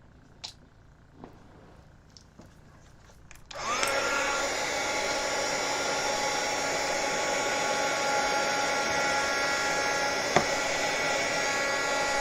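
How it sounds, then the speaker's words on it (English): A few soft taps and clicks, then a hair dryer switches on and runs loudly and steadily nearby, drying craft paint, with a whining hum for the rest of the clip. "Let me hit that with the hair dryer or heat gun or whatever"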